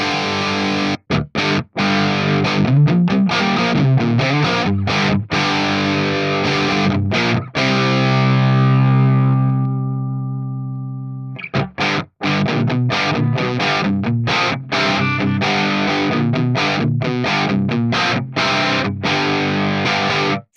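Distorted electric guitar through an Axe Fx modelling the Soldano X88 in lead mode, with dry chugging palm-muted riffs, a long sustained chord ringing out and decaying, then more tight staccato riffing, loud and alone.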